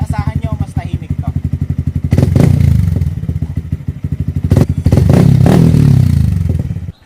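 A Yamaha Sniper 155 motorcycle fitted with a full-system muffler with no silencer idles with a loud, raspy, popping exhaust and then revs hard twice, close to the pipe, with clattering mechanical noise underneath.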